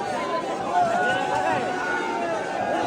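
A packed pilgrim crowd at the Jotiba temple yatra in Kolhapur produces a constant murmur of mixed voices and movement, a steady, fairly loud babble close around the listener.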